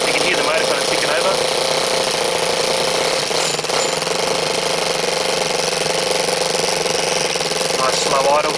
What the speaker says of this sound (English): You can hear the motor kind of ticking over.